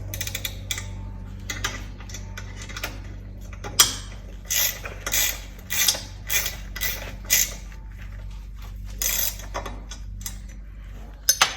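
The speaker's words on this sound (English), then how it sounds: "And we use these wrenches, they're 1/2 inch, to make sure that we get it on tight." Half-inch wrenches tightening the bolts of a grill mount for an RV, with a run of metallic clicks and creaks close by, then sharper ratcheting bursts spaced through the middle over a low steady hum.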